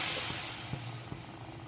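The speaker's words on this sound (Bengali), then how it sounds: "সকালবেলা উঠেই চা বসিয়ে দিলাম, তো জল ফুটে গেছে। এখন চা পাতা দিয়ে আর এর মধ্যে একটু এলাচ দিয়েছি।" Water with tea leaves and cardamom simmers in a pot, giving a steady close hiss of steam and bubbling with a few faint low knocks underneath.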